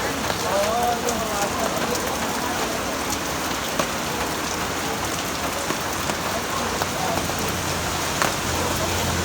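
Steady rain falling and pattering on surfaces outdoors, a dense continuous hiss with no breaks, fairly loud and close, with faint voices now and then underneath.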